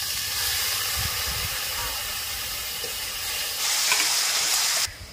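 Potatoes fry in a pan for a village-style brinjal and potato fish curry, a loud steady sizzle and hiss that surges sharply brighter when a little water goes in near the end before cutting off, with no voices.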